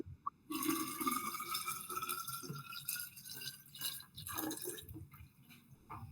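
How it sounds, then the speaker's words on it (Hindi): Water pours from a jug in a quiet indoor room, a steady bright liquid trickle running for several seconds with small dripping and filling sounds, fairly close and heard on its own without voices. "जग से पानी निकाल रहा है"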